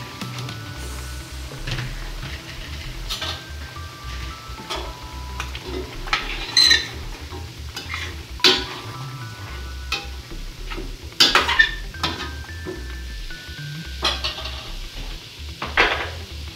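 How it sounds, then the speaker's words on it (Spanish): Fava beans go into a pan with chicken and are stirred, giving repeated scraping and clinking of a utensil against the pan over a soft sizzle, close and steady with no talking. "Agregaremos las habas."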